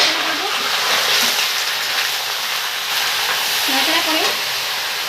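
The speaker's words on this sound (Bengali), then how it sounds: "এখন আমি মাংস ছেড়ে দেবো।" Mutton goes into a pan of browned onions and fries with a loud, dense, hissing sizzle. The sizzle stays steady throughout, with faint stirring underneath and no speech.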